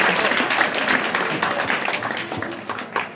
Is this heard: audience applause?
yes